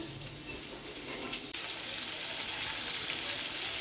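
Pointed gourd frying in oil in a pan, a steady, moderately faint hiss and crackle that grows slightly denser partway through, with no talking.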